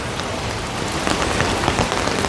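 Heavy rain pours onto the streets of Copacabana, a dense, continuous hiss of drops hitting pavement nearby, steady and loud throughout with no voices.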